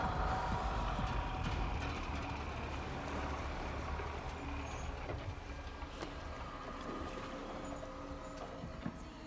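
Truck in Uncharted 4, a steady low engine rumble with road noise, fairly loud and continuous, fading slightly over time, with no talk.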